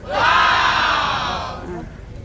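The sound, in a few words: crowd of people shouting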